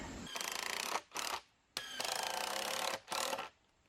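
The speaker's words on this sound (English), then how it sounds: "So I'm going to put a couple of screws in here to make sure it stays in place." A power drill drives screws into the wooden platform of a 14x20 shed foundation in several close, loud bursts of whirring, separated by short pauses and a couple of brief tail-off blips.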